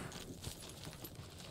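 Faint clip-clop of a horse's hooves in Ghost of Tsushima, a soft steady walking rhythm heard quietly in the background.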